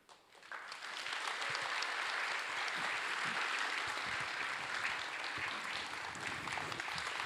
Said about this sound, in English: a large round of applause for our amazing panel